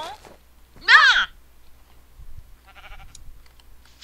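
A single loud sheep bleat close by, with faint softer bleats and quiet rustling around it.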